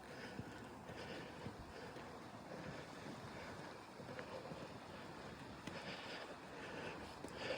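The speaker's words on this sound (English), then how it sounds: "It is windy today." Steady wind rushes and buffets outdoors on a hike to the Wisdom Tree, gusting against the microphone with a rough, continuous roar.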